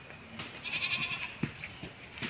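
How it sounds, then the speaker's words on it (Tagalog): Goats in a goat pen give a drawn-out bleat followed by shorter calls and thumps nearby, fairly close and moderately loud, with no speech. "Kambing."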